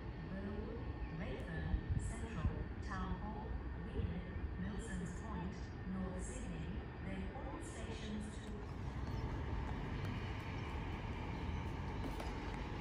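Sydney Trains suburban trains rumble and clatter past on the rails at Meadowbank with a steady mechanical drone, while muffled voices murmur in the background.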